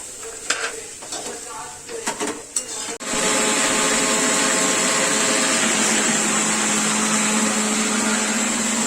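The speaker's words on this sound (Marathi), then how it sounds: "मिक्सरचा आवाज येतो ना" A kitchen mixer grinder switches on and runs with a loud, steady whirring drone, after a few seconds of quieter clattering and handling sounds in the kitchen before it starts.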